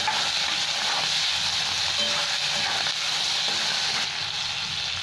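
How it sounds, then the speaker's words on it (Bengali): Salt-and-turmeric-coated prawns sizzle steadily in hot oil in a pan, a loud continuous hiss and crackle close up with no talk. "এখানে চিংড়ি মাছগুলো দিয়ে দিচ্ছি সব, নুন হলুদ মাখিয়ে রেখেছি তো, এটা দিয়ে দিলাম। এবার ভেজে নেব।"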